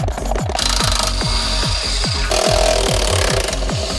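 A power tool loosens bolts on a BMW X5 M50i suspension, giving a loud, fast rattling hammer in repeated bursts and a whirring motor, heard close up with no talking.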